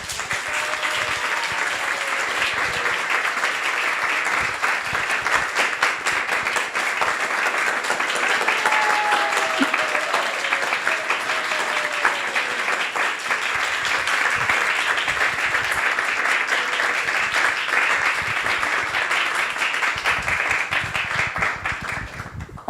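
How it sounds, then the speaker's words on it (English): An audience at a Vyasa Puja celebration applauds to welcome a guest, a dense sustained wash of clapping holding steady for over twenty seconds with a few faint voices underneath. "Let's welcome him with a big round of applause."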